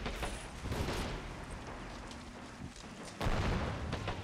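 Grenade explosion in the war game Men of War Assault Squad 2: dense, noisy battle sound with several sharp blasts and gunfire cracks, a heavier boom near the end, all fairly loud and continuous.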